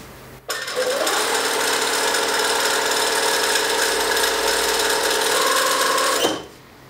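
A sewing machine runs steadily for about six seconds, stitching a wedding dress bodice to its skirt, with a loud, even mechanical whir that starts and stops abruptly and has no talk over it.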